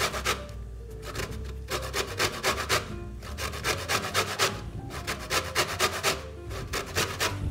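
Lemon zest is grated, heard as a quick, rhythmic rasping of rind scraped back and forth against a grater, close and steady throughout.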